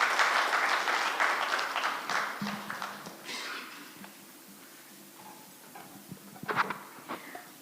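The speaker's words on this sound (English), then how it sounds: "Kindly let us applaud as she comes to the front" Audience applause at a Kenyan justice-sector launch as a guest walks to the front, starting as loud dense clapping that thins out into scattered individual claps, with a brief late burst and faint background murmur.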